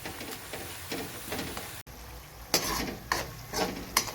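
Garlic and ginger sautéing in a pan, a soft continuous frying hiss broken by repeated louder scraping and clattering bursts of a spoon stirring against the pan.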